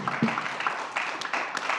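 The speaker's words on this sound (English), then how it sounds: "Let's have a round of applause for our panelists." Brief burst of audience applause at a university panel event, scattered clapping from a room of people, fairly faint and thin, lasting under two seconds.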